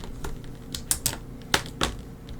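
Fingers type on a computer keyboard during a live digital art session, a quiet run of soft key clicks broken by a few sharper, louder strikes, close by and with no talk.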